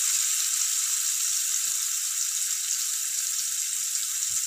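Small onions frying lightly in hot oil, with a bay leaf in the pan, giving a continuous close sizzle that holds steady throughout without speech.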